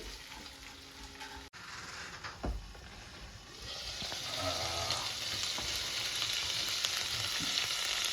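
Ginger chicken sizzles and fries in a pan while it is stirred, with a sharp clatter early on and the sizzle swelling louder and steadier toward the end, close and without talk.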